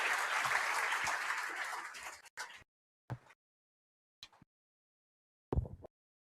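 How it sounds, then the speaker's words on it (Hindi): Seminar audience welcoming a speaker with applause: a dense burst of clapping that fades after about two seconds, followed by a few isolated knocks and thumps in near silence. "तालियों के साथ में इनका स्वागत।"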